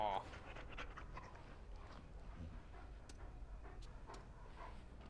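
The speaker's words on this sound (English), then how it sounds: "He's a good dog." A dog panting in the video game Dragon Age: Origins, soft rhythmic breaths under low game ambience, with a few faint ticks and clinks.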